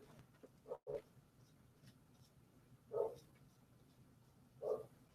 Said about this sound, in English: That dog's still out, barking away.